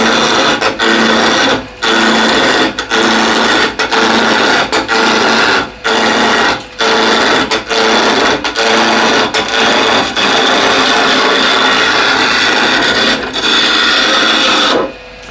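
Wood turning on a lathe, a steady loud rasping scrape of the tool against spinning wood, broken into repeated passes by short gaps, with no talk.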